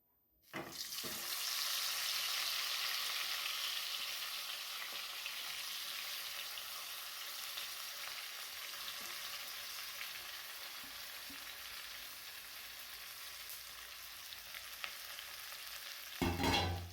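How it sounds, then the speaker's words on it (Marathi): Green chilies dropping into plenty of hot oil burst into a loud, steady frying hiss that holds for the whole stretch, easing slightly and then swelling again at the end as they are stirred, close with no talk. "हे तेल आपलं गरम झालेलं आहे यामध्ये आपण ही मिरची घालूयात"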